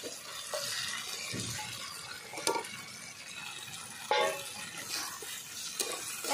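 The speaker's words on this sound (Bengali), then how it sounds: "মশলা ভালো করে ভেজে নিয়েছি এবার মাংসটা আমি দিয়ে দেব।" Chicken pieces going into a pan of fried spices for a chicken curry with whole garlic and onion, with steady sizzling and frying under repeated stirring, a few sharper scrapes and clinks of the spoon against the pan.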